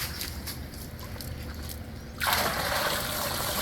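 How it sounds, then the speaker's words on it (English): A bucket of water hauled up from a century-old well in Icacos, with light sloshing and trickling that swells into a louder, steady splashing rush of water partway through. "So this here, folks, is actually how water is drawn from a well right here in Icacos."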